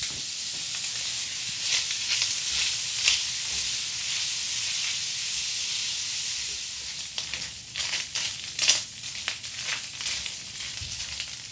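Bacon fries in a pan with a continuous bright sizzling hiss, close and steady, with small crackling pops growing busier toward the end.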